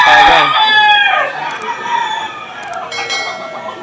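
Roosters at an early-morning cockfighting arena crow loudly and close, one long crow followed by further overlapping calls amid a busy background of other birds and clucking.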